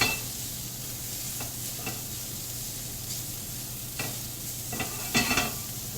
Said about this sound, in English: Just give everything a stir every couple minutes.